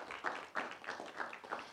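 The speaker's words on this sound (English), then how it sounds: "So big round of applause for Tony." At an idea pitch competition, a faint, reverberant audience gives rhythmic applause for a presenter, the soft claps pulsing in a slow, even beat heard from a distance.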